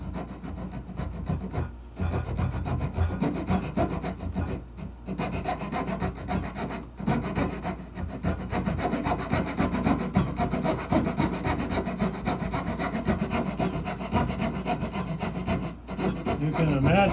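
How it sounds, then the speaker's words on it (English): A dovetail saw cuts wood for hand-cut dovetails in a steady run of close, raspy back-and-forth strokes, with only a few brief breaks. "dovetail saw."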